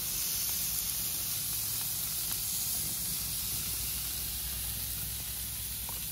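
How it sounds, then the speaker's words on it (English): Food sizzling on an outdoor patio grill during a spring cookout, a steady close hiss and crackle that runs without pause and without talk. "A little Monday afternoon sizzle for you."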